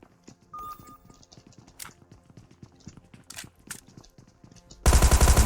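Gunfire in the battle royale game PUBG Mobile on the new Erangel map: scattered sharp shots and short bursts crackle through the clip, ending in a loud, dense burst of close fire.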